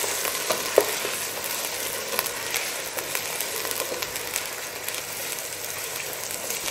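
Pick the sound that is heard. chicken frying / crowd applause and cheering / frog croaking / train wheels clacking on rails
chicken frying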